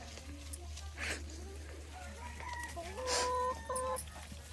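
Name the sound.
free-range village chickens clucking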